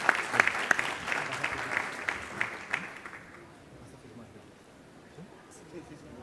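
Audience applause for presenters at a book launch at a book fair, a dense clapping round that swells for about three seconds and then fades to a quiet room.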